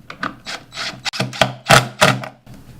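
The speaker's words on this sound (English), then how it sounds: "Tightening up the screw, and again, don't over tighten." A hinge screw being tightened on a wall cabinet door: a few close, scratchy creaks and rubbing grinds in short bursts, like a screwdriver turning a screw into wood, with no voices.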